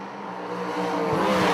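A wheel-standing wagon launching down a dragstrip in a drag race, its engine building into a loud rising roar over under two seconds, close and unaccompanied by talk.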